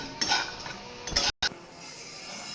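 Roasted sesame seeds stirred in a pan while making drumstick vegetable curry, giving a few scraping, clinking strokes with a brief gap in the middle, close and moderately loud.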